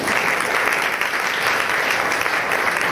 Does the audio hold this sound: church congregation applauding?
yes